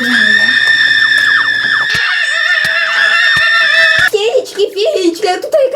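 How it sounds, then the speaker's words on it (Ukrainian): A screaming mandrake in Minecraft lets out a loud, shrill, sustained wailing shriek with sharp glitchy clicks, giving way to a ragged warbling cry at the end. "мандрагора кричаща."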